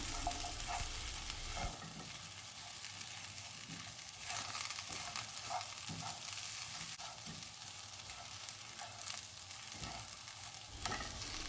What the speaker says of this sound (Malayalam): മട്ടൺ നന്നായിട്ട് ഇളക്കി മസാലയുമായിട്ട് നന്നായിട്ട് യോജിപ്പിക്കണം.